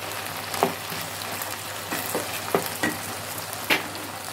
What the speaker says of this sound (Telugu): దుంప కూడా చక్కగా వేగింది.